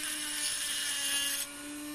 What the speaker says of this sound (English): got the Dremel going. I'm going to go ahead and grind this down.